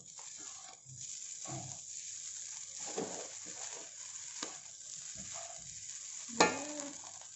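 Soft sizzling from a pan as fried rice with salted fish is stirred and scraped, with quiet clinks and a sharper scrape near the end; no talking.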